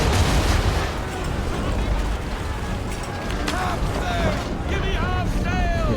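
Ship cannons fire in a naval battle in Assassin's Creed III, a loud rumbling barrage of booms rolling on continuously, with shouting voices rising over the din toward the end.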